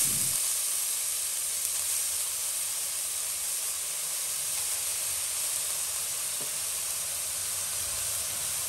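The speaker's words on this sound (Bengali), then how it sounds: "গাজর দেওয়ার পর এটাকে এক থেকে দুই মিনিট আমি ঘিয়ের সাথে ভেজে নেব" Grated carrots fry in ghee for shahi carrot halwa, a continuous even hiss of sizzling fat that holds at a constant level throughout, close by and without talk.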